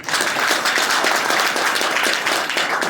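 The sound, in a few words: loud applause for the team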